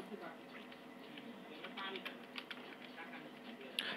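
Soft, quick keystrokes patter on a computer keyboard as C code is typed into the Code::Blocks editor, faint and irregular beneath someone talking over it.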